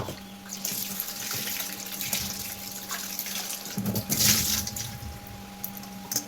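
Tap water runs steadily over mangoes being washed in a sink, a continuous splashing stream with a brief louder gush near the end, no voices.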